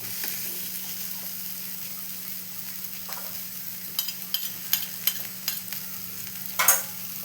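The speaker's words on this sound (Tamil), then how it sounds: "இஞ்சி பூண்டு பேஸ்ட் இதிலே வச்சுட்டு இப்போ இது நல்லா வதக்கலாம்" Ginger garlic paste sautés in a pan, a soft low sizzle beneath a series of sharp spoon clicks and scrapes that cluster toward the end, with one louder clatter.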